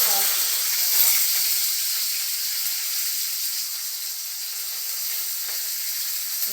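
Mustard seeds sizzle in hot oil for the tempering of a radish chutney, a steady, loud, close hiss that holds evenly throughout with a faint tick near the start.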